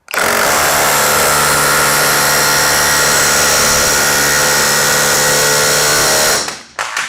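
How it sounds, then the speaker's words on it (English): A battery-powered hammer drives a 16 penny nail in one loud, sustained, close mechanical burst of rapid hammering lasting about six seconds, then cuts off abruptly with a brief rattle. "I'm going to try another 16 penny nail."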